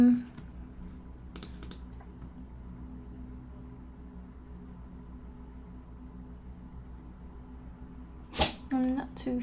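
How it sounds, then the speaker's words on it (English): A dog gives a short, sharp sneeze burst near the end, off-mic and indoors, following a long quiet stretch with soft keyboard typing and clicks earlier. "that was my dog sneezing"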